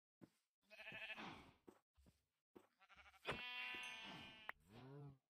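Sheep in the Minecraft VR video game bleating, several separate drawn-out game-sound bleats with brief quiet gaps and soft knocks between them, fairly close and clear.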